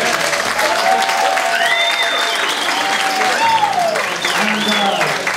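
A concert audience claps at a music show, a continuous wash of close applause with some crowd noise, while a voice speaks over it.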